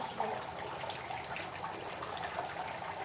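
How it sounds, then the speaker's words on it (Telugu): Soft, steady trickle of water from a silver decorative fountain, a continuous gentle splashing at moderate distance with no talk over it. "దీంట్లో కూడా మనకు వాటర్ సౌండ్ ఎక్కువ డిస్టర్బెన్స్ కాకుండా నార్మల్ సౌండ్ ఇచ్చారనమాట"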